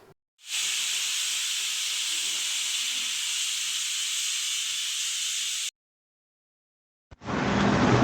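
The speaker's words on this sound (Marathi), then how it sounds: "आता आपण याला कुकर लावून घेऊया आणि 2 शिट्ट्या आपण काढणार आहोत" A pressure cooker holding chicken soup lets out a long, steady, high steam whistle lasting about five seconds, then falls silent before a second hissing burst starts at the end.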